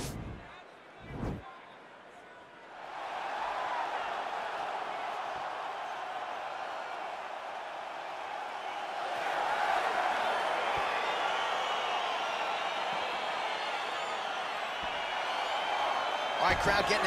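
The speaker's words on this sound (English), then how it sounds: "crowd getting excited as this fight gets underway" A video game crowd roars steadily through a UFC 4 featherweight fight on PS5. The sustained arena cheering starts after a short quiet opening and swells louder about halfway through.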